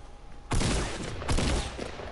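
Gunshots ring out in the video game Fortnite Battle Royale: a loud, abrupt blast with a long decaying tail, then a second heavy report about three quarters of a second later, close and alone.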